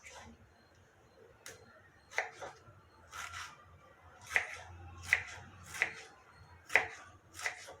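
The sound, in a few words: cutting tomatoes lengthwise with a knife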